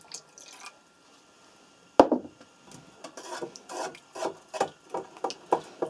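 Diluted homemade sugar caramel colour being stirred: after a sharp knock, a spoon scrapes and rubs repeatedly against the container in a loose rhythm, close up and fairly quiet, with no talking.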